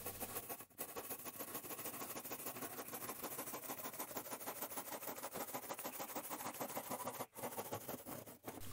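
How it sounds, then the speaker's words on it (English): Panel saw cutting through a wood board for a side table, a continuous dense rasping of hand strokes running steadily throughout, loud and close with only brief pauses. "And cut this with the panel saw."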